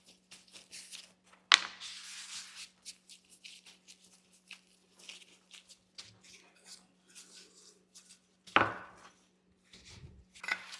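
A cutter presses through shortcake dough with soft, scattered thuds and scraping taps, two sharper knocks standing out, all close and fairly quiet over a faint steady hum.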